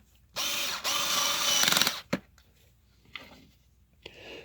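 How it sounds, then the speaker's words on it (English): A Black & Decker Pivot Driver PD360 cordless screwdriver, upgraded to an 18650 lithium-ion battery, drives screws in two loud, close bursts of motor whine, followed by a sharp click and then quieter, scattered handling noises. "Let's get some more screws in here."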